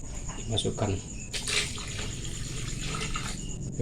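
A glass of water is poured into a blender, a short splashing gush standing out briefly while someone talks over it.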